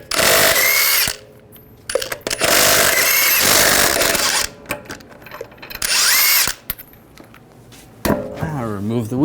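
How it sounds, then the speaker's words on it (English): An impact wrench spins lug nuts off a Ram 1500 wheel with a 22mm socket, loud close whirring bursts alternating with short pauses and clanks, ending with a rising-pitch spin-down. "we're going to take the lug nuts off."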